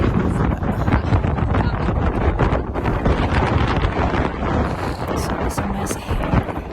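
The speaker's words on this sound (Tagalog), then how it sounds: "Sobrang lakas ng bongga, sobrang lakas dahil malamig talaga. Mahangin talaga." Strong, cold sea wind buffets loudly against the microphone in heavy gusts, a constant roaring rush with a voice faintly underneath.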